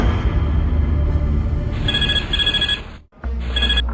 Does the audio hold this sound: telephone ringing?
yes